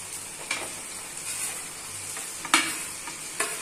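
Leftover cooked rice and vegetables tossed together for veg fried rice, a soft hiss broken by several sharp spatula scrapes and clacks against the pan, close and without talk.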